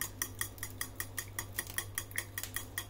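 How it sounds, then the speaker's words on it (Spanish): Rhythmic clinking of a whisk or fork beating eggs in a bowl for a French omelette, with steady quick strokes about four or five per second, close and clear, no talking. "Y a batir los huevos."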